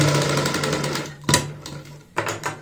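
A sewing machine stitches fabric for a child's frock, running in a steady rapid whir close up. Two sharper mechanical knocks break in as it slows and restarts.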